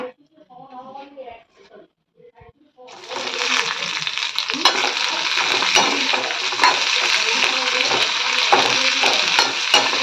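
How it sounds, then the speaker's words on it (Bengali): Bitter gourd pieces go into hot oil after fried lentil dumplings, bursting into a loud, continuous crackling sizzle with stirring scrapes, after a few seconds of a voice talking. "আর একটু তেল দিয়ে উচ্ছেগুলোকে দিয়ে দেবো"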